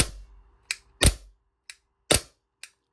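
Lancer Tactical airsoft gun firing semi-auto on green gas: five sharp, dry cracks spaced unevenly, close and fairly loud, with quiet gaps between shots.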